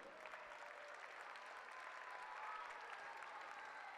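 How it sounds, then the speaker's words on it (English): An audience at a school function applauds the live streaming crew, a steady, even wash of clapping that sounds faint and distant. "Let's hear a big round of applause for them."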